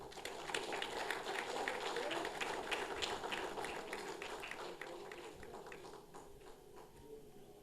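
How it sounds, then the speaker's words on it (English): Steady applause from an audience at a college Genesis Day award ceremony: a dense, continuous patter of many hands that holds for several seconds and slowly thins toward the end, fairly distant and soft. "Big round of applause, please"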